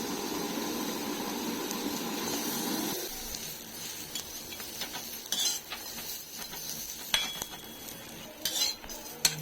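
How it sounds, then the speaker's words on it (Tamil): Cut coconut pieces roast in a hot kadai, first with a steady rushing hiss, then quieter with scattered clinks and scrapes of a spatula stirring against the pan. "கடாய் சூடானதும் நம்ம கட் பண்ணி வச்சுருக்க இந்த தேங்காயை போட்டு"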